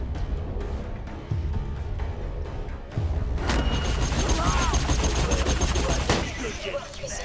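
Rapid bursts of machine gun fire from the video game Borderlands 2, with sharp repeated shots and booming impacts in short volleys, densest in the latter half.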